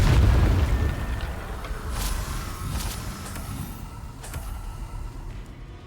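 The Confringo blasting spell in Hogwarts Legacy goes off in a loud, deep explosion that rolls away slowly, followed by a few smaller, sharper bursts.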